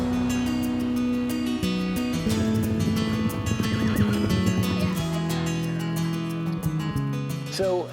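Horses neigh and whinny loudly over sustained background music, with a long whinny mid-way and a short one near the end.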